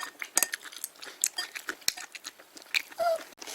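Crunchy, close-up chewing of a rolled omelette made with cabbage and topped with sriracha, with irregular crisp bites and soft mouth noises.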